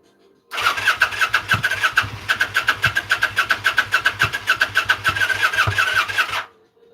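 A Kawasaki Vulcan motorcycle engine cranks over on the starter in a fast, even run of loud, close chugs that sputter as if about to catch, lasting several seconds before cutting off into silence.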